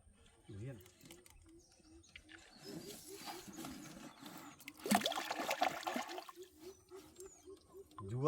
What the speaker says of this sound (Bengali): সেজন্য জঙ্গলের ভিতর সেই কুকো পাখি ডাকছে।